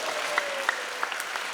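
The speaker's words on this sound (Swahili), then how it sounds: "Tumesikia makofi kwake." Applause ringing through a church during a Catholic Mass, a steady patter of clapping from a congregation that carries on evenly throughout at a moderate distance.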